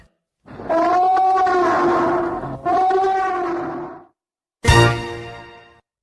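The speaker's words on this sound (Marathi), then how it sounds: "हत्तीचा आवाज ओळखलात" Two long, harmonic elephant trumpeting calls, loud and close, followed after a pause by a sharper, shorter blare that fades out; no talking.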